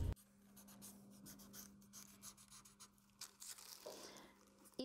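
Pencil drawing a silk blouse pattern outline on paper, close scratchy strokes in short uneven bursts with brief pauses, faint and without talk.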